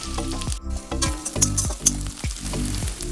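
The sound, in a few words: chopped onions frying in mustard oil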